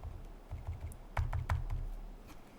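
Keys on a computer keyboard are tapped in short quick bursts while an email address is typed, close and fairly quiet, with a low hum underneath.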